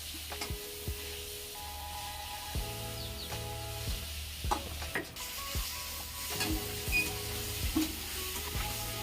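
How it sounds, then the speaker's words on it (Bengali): Brinjal and potato pieces sizzle in hot oil in a pan while a spatula stirs and scrapes them in repeated bursts, close and steady, for a Bengali tangra fish curry. "এই যে আমার বেগুনটা আর আলুটা ভাজা হয়ে গেছে"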